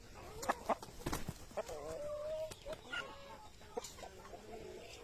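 Ten-month-old roosters on a rural farm cluck in short, irregular bursts close by, with a few longer calls and quiet background murmuring between them.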